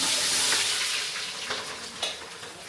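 Onion hitting hot oil in a pan, a loud dense sizzle right at the start that slowly eases off, with a few stirring clicks.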